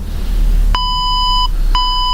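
A workout interval timer sounds its finish signal at the end of a beginner HIIT session: two loud, clear electronic beeps, each a sustained tone of about three-quarters of a second, separated by a short gap, with no talking.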